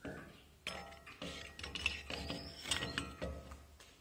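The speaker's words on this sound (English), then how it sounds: "I took my Dremel tool with a flexible shaft and tried to get rid of it with moderate success" A Dremel rotary tool on a flexible shaft grinds down a welded pipe seam on a wind turbine frame, giving uneven bursts of scraping and whining contact with metal, close and fairly quiet, with clanks between passes.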